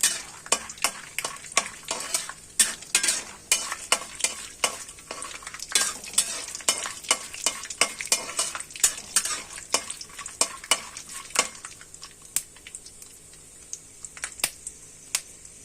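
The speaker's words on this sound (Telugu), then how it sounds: "చూడండి, వేరుశనగపప్పు వేగిపోయింది" Peanuts fry in a pan while a spoon stirs them briskly, producing a rapid run of crisp tapping and scraping clicks over a faint sizzle, close and steady, thinning out toward the end.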